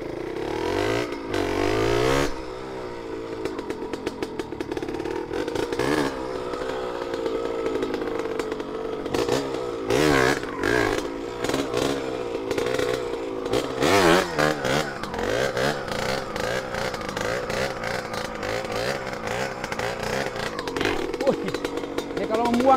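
A motorcycle engine revs hard and repeatedly, rising and falling in loud, close bursts with a raspy buzz throughout.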